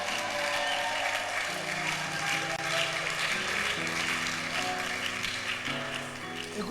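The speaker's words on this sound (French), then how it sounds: "Tu peux d'abord célébrer ta beauté avec des acclamations." A church audience cheers and claps in a sustained, dense wave of applause, loud and continuous, with shouts and voices rising over the clatter.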